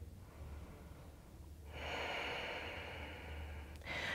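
During a yoga pose, a person takes a deep breath. A soft inhale is followed by a longer, louder breathy exhale through the nose, then another breath begins, close to the microphone with no speech.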